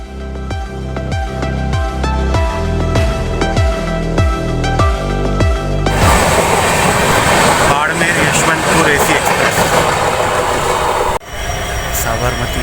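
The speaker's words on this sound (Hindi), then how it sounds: "WDP-4D EMD locomotive, वाटवा shade diesel locomotive" A WDP-4D EMD diesel locomotive of the Vatva shed passes close by, its engine throbbing loudly in rising and falling beats before the coaches rush past in a broad roar of clattering wheels.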